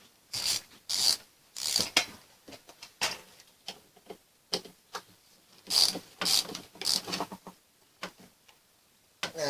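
Ratchet wrench tightening bolts on the hydraulic valve block of a Valmet 605 tractor, giving bursts of rapid clicking strokes with short pauses between them, close and fairly loud.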